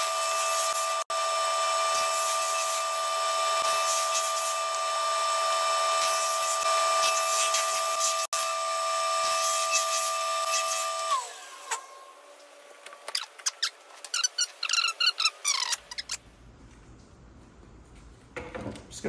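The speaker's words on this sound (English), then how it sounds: "Just gonna cut these into shorter strips so they're easier to glue up." A power tool cuts thin 1/16-inch maple veneer into shorter strips for segmented woodturning, giving a steady, even whine for about eleven seconds before it stops, followed by scattered clicks and handling noises.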